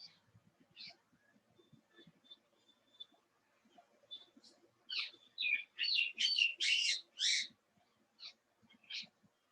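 A parrot in the background gives a burst of loud, shrill squawks in the middle, with fainter scattered chirps and quiet calls before and after.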